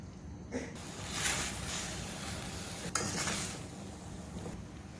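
Bottle gourd and dried prawn curry bubbling in a pot, a soft steady simmering hiss with gentle stirring swells and one sharp clink, fairly quiet throughout.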